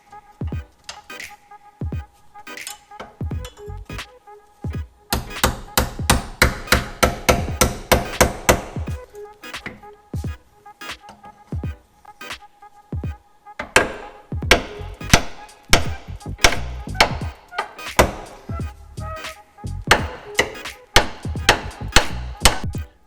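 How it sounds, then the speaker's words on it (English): A hammer and pry bar beat on the upper control arm and ball joint of a 2007–2015 Chevy Silverado 1500, with sharp metallic whacks landing in rapid bursts and irregular runs, loud and close, with no talk. "I'm going to use a hammer and a pry bar and just try to beat this loose"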